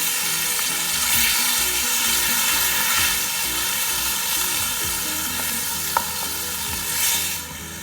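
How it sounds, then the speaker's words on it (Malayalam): Tomatoes sauté in hot oil in a pan for kadai prawn masala, a steady, loud sizzle running throughout with soft stirring scrapes and one brief click. "ഈ തക്കാളി നന്നായി എണ്ണ തെളിഞ്ഞു വരുന്ന വരെ നമ്മൾ വഴറ്റിയെടുക്കേണ്ടതാണ് കേട്ടോ"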